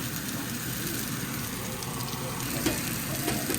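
Almond-crusted mahi fries in a pan with a steady, moderate sizzle that continues throughout, with a couple of small clicks near the end.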